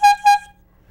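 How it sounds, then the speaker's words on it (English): A bicycle air horn fed from a high-pressure bottle gives two loud, close, brassy honks in quick succession, then falls silent. "I have an air horn that's right here. And it can be quite loud."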